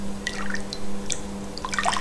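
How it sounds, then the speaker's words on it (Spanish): Very hot, near-boiling water, about 375 ml, poured into a homemade gelatin mixture, heard as soft splashing drips and trickles over a steady low hum, light and close. "a continuación echamos 375 mililitros de agua muy caliente"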